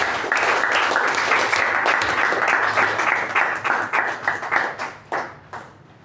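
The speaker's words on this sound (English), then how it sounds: "With the thunderous round of applause, please help me welcome our President," An audience at a Toastmasters club meeting bursts into sustained applause welcoming the club president, a dense wash of many hands clapping that stays loud and steady, then thins into scattered claps as it dies away.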